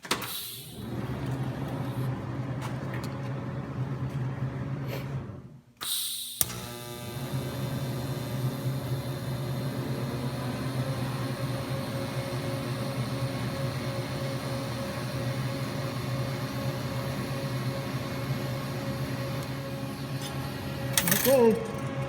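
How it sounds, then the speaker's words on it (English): Welder running on scrap metal while a hinge is made, a steady buzzing hum with tonal lines lasting about twenty seconds after a brief pause and click near the start, loud and continuous. "probably should turn the welder on."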